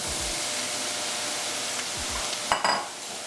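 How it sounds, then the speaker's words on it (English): Mushrooms drop into a hot frying pan for beef stroganoff, a steady sizzle with low stirring knocks, then a brief louder burst of crackling as they hit the oil near the end. "I'm also gonna throw in my mushrooms. Mushrooms going in there."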